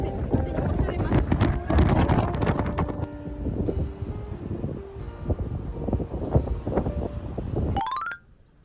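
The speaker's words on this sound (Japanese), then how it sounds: "後ろから風に押されます。" Strong wind buffets the microphone in loud, gusty rumbles, with water and boat noise underneath, in France, before cutting off abruptly at the end.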